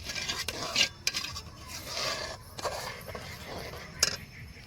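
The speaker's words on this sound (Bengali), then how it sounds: "এরপর আমি আমুল দুধটা দিয়ে দিচ্ছি। দিয়ে ভালো করে আমি মিশিয়ে দিচ্ছি দুধটা দিয়ে।" A spoon stirs Amul milk into gobindobhog rice payesh sweetened with nolen gur, with irregular scraping and clinking against the pot over a soft background hiss.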